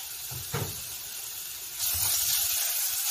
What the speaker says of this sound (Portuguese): Aquele alho que eu bati, agora eu vou jogar dentro da panela para dar uma leve refogada nele